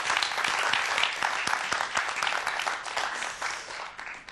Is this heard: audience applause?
yes